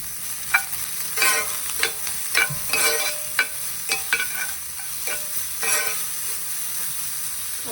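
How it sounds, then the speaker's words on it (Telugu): Carrot pieces are stirred into a sizzling tempering of seeds, curry leaves, dried red chillies and onion in a pan, with a soft, steady frying hiss broken by repeated scraping and clinking strokes of a spoon against the pan. "క్యారెట్ ముక్కలు వేసి బాగా మిక్స్ చేసుకోవాలి."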